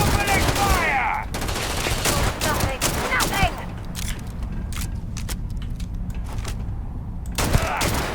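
Rapid bursts of gunfire in the space-combat video game Starfield, loud and dense with repeated sharp shots over a constant engine-like rumble, with a brief voice heard near the start.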